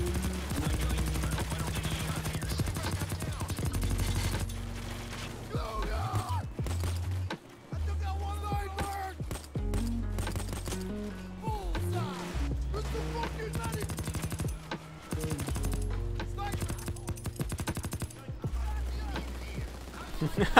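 Sustained gunfire from a Payday 2 heist shootout, with rapid bursts layered over steady game music and effects throughout.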